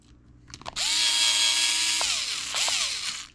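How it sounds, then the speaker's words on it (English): An electric screwdriver with adjustable torque drives screws into an Ascent Fusion scooter wheel, giving a loud, close, steady whine that shifts pitch as the screw seats, briefly pauses, then spins up again. "if you're going to use an electric screwdriver, make sure you have one where you can adjust the torque on it"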